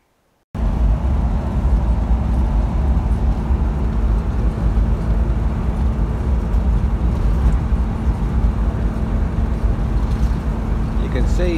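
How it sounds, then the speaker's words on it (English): Toyota Land Cruiser 60 Series driving along a road, a steady loud low engine and road rumble filling the whole stretch without letup. "You can see when I'm driving along that the steering wheel is off to the left, yet it's not pulling to the right."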